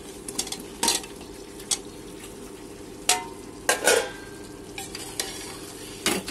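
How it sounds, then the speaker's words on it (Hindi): Fried potatoes for an aloo biryani tossed and stirred in a pan, with scraping, clattering utensil strokes at irregular intervals over a steady low sizzle, close up and with no voices. "अब हम इसमें ये फ्राई किया हुआ आलू डालेंगे।"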